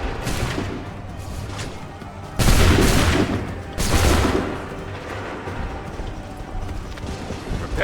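Musket volleys in Assassin's Creed III: two loud, broad bursts of massed gunfire a second or so apart, set against a continuous battlefield rumble with quieter cracks before and after.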